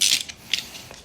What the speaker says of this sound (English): if you have a extended ratchet like this, loosen that bolt